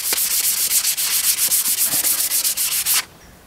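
Sandpaper rubbed back and forth along a new axe's wooden handle, rapid rhythmic hissing strokes for three seconds, close and loud, then stopping into near silence.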